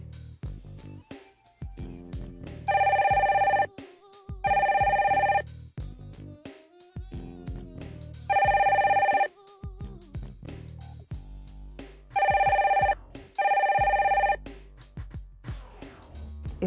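A telephone bell rings in four loud, regular bursts, each lasting about a second, with short quiet gaps and faint background sounds between them. No one speaks over the rings.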